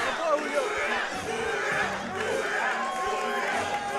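A large arena crowd at a mixed martial arts fight night roars and cheers continuously, voices blending into a dense wall of noise with shouts rising now and then.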